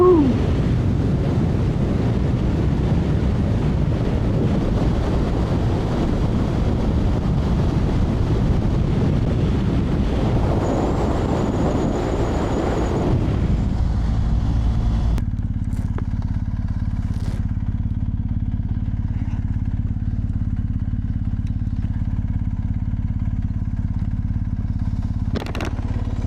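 A motorcycle rides across the Tennessee River bridge on the Natchez Trace Parkway. The engine drones steadily under heavy wind rush, which drops suddenly partway through, leaving a lower, steadier engine hum.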